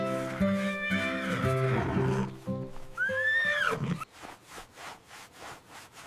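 Cartoon farm horse gives a loud, tonal neigh with warbling harmonics, followed by a second rising whinny, then soft rhythmic rubbing or wiping sounds as the horse is cleaned.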